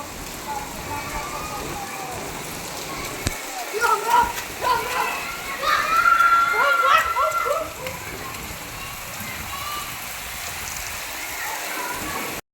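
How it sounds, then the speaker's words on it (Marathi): Steady rain patters down outdoors while people talk intermittently over the soft, even hiss of falling drops. "आज मस्त पाऊस पडतोय"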